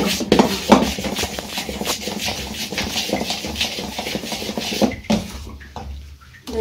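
A spoon beating idli batter in a bowl, with continuous rough scraping and slapping strokes in a quick, uneven rhythm, close and moderately loud, with no talking.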